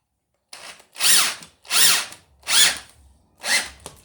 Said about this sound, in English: this is how you use a drill on a long nail to anchor 3 slabs of wood